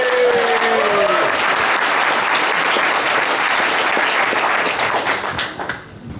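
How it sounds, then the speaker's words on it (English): A tech conference audience gives loud, sustained applause for a speaker on stateful containers. The dense clapping holds evenly for about six seconds, with a faint tonal whine at the start, before thinning out at the end. "A huge round of applause for Luke Marsden from Cluster HQ, please."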